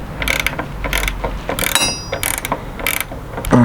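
Ratchet straps are tightened down with rapid, repeated clicking ratchet strokes, close and loud, in several quick bursts with no talking.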